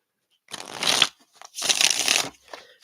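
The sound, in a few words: shuffling a new Native American tarot card deck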